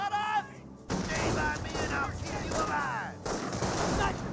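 Sniper rifle fire in the Company of Heroes 1 real-time strategy game: two sharp, loud shots with a pause between them, each leaving a ringing tail and a battlefield rumble, over voice commentary.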